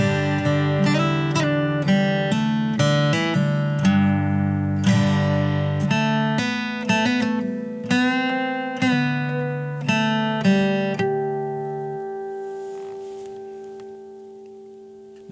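Electric guitar plays a short tablature exercise, picked notes mixed with string bends and a ringing harmonic, loud and clear with no talking, the final note sustaining and fading away.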